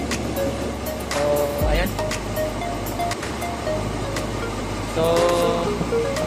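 A repaired Dodge V8, revived after more than six years of not running, idles with a steady low rumble beneath someone speaking close by, with wind buffeting the microphone.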